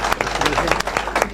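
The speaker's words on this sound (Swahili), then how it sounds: "Tupige makofi tafadhali, wanatoka mbali sana." A crowd claps for ODM by-election candidates from Galole constituency, Tana River County: a brief, dense burst of applause mixed with voices.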